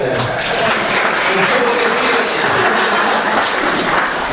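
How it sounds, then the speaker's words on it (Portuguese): Audience applause at the close of a Spiritist meeting talk, a continuous, fairly loud burst of many hands clapping that fills the moment without pause. "Uma salva de palmas."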